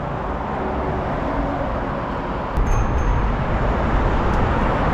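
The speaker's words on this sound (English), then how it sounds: "It's all the time the noise of the cars" Continuous low roar of car traffic beside a highway in Barking, east London, a steady broadband rumble heard from nearby with no distinct passes standing out.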